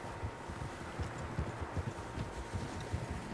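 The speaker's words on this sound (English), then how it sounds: "Horses, quite a few of them." Several horses galloping in Red Dead Redemption 2, a faint, steady rapid drumming of hooves under wind-like hiss, with no speech.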